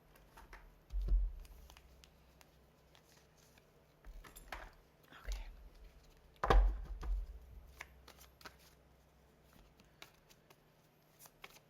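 Cards being shuffled in a few separate bursts of riffling and flicking, close and fairly quiet, with small handling sounds and soft rustles between them and no voices.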